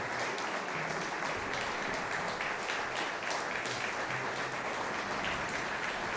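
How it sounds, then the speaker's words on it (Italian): Sustained crowd applause after a performance by a cavalry brigade's military brass band, a dense, steady wash of many hands clapping throughout with no pauses. "Un grande applauso, veramente"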